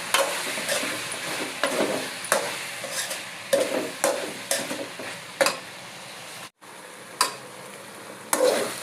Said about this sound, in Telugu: వంకాయ కూర అయితే చేస్తున్నాను.